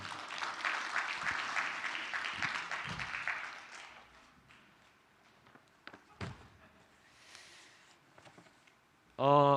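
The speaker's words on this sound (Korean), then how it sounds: "262 하나님께 제가 선물 드리도록 하겠습니다. 박수 부탁드릴게요." A church congregation claps for about four seconds, a full wash of applause that fades into quieter room noise with scattered knocks and brief voices, ending with a loud burst at the close.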